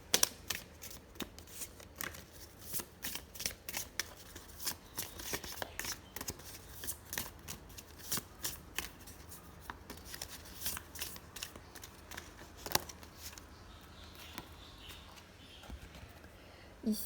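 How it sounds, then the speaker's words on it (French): Oracle cards being shuffled by hand: a steady run of quick, soft riffling flicks and taps, close and fairly quiet, with no talk. "on va prendre quelques cartes d'un oracle un peu plus spirituel, celui-là"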